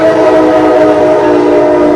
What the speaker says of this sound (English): they got to honk the horn here because the cars and everything